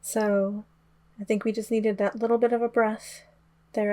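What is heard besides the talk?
No everyday noises stand out.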